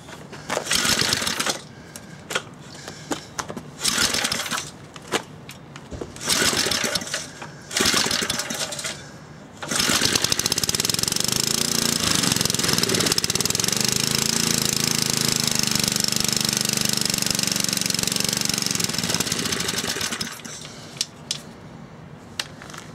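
Small engine with a JB Weld-repaired scored cylinder, sputtering in short irregular bursts, then running continuously and loud for about ten seconds before cutting back to intermittent coughs.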